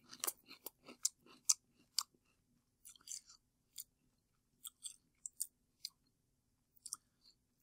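Crunchy bites into a rippled Lay's jalapeno mac and cheese potato chip, a close string of sharp crackling chews that bunch up early, pause, then return in sparser bursts, with no talking.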